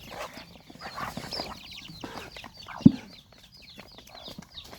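Chickens clucking in short, busy bursts nearby at feeding time, with one sharp louder call midway amid a scratchy farmyard background.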